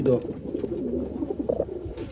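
Old line pigeons at a Bangalore sale, including a nesting female, give low murmuring coos close by under a busy, noisy background with a few brief rising calls.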